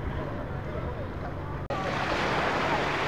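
Sea waves rolling in at Paignton beach in Devon, a loud continuous surf wash with wind buffeting the microphone and a brief dropout midway.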